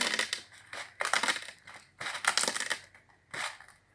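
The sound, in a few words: breaking small pieces for a craquelê craft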